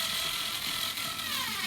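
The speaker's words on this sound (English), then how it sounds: "you just gotta tighten the screws all the way to secure the fixture to the wall." A battery-operated Black & Decker power driver whirs continuously with a gritty mechanical ratcheting texture while tightening screws to mount a vanity light fixture on a wall, close and steady.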